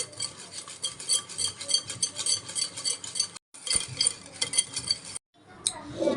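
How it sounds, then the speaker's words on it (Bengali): Yogurt being stirred to a creamy texture in a clay pot, a continuous brisk scraping and clinking of a spoon against the earthenware, rhythmic and close, with two brief pauses. "সুন্দর করে একটু মালসায় নিয়ে নেব মাখাইয়া"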